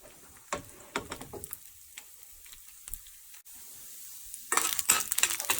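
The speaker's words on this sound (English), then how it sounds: "I have heated 1 teaspoon oil. Next I'm adding urad dal to this." Urad dal dropped into a teaspoon of hot oil with cumin and mustard seeds, scattered spoon clicks and light crackles at first, then a sudden loud, steady sizzle bursting up close near the end.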